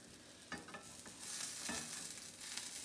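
Quesadillas frying in a pan give a soft steady sizzle, broken by a few light scraping stirs or shifts near the start, with no voices.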